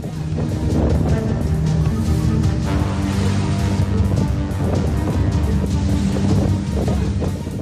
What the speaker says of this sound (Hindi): हवाओं की रफ्तार इतनी तेज थी कि चंद मिनटों में ही हवाएं अपने साथ सब कुछ उड़ा ले गई।